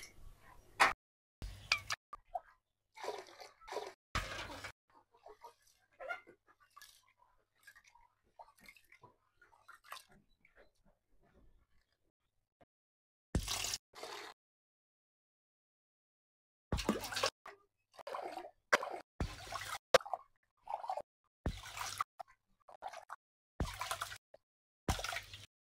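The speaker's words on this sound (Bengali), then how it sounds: "আমি এখন চাউলটা ধুয়ে নিব" Rice washed in water by hand, intermittent bursts of splashing, squishing and dripping close by, separated by quiet pauses.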